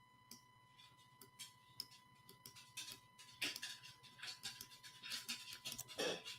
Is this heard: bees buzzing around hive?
no